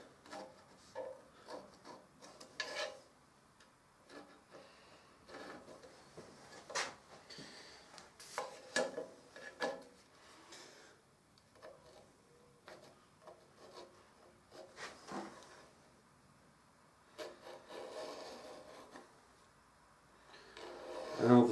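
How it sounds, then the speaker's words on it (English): A steel scriber rubs and rasps lightly against a knife scale as it is drawn around the outline of the knife, producing faint, intermittent scratching strokes close by with short pauses between them. "Next I take a scriber and I scribe around the outline."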